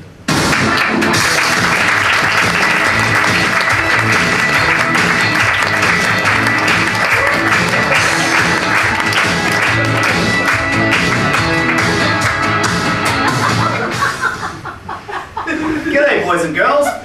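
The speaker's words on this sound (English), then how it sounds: "start clapping for the Theatre of Social Skills at School" A large audience claps loudly and steadily for a school-themed comedy troupe on stage at the Melbourne Comedy Festival. Some chuckles are mixed into the clapping, which carries on for about fourteen seconds before thinning out into a few scattered claps.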